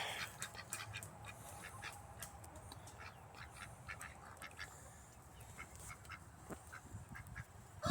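Ducks quack at a backyard pond, repeated scattered quacks over a steady outdoor background hum, fairly faint and distant.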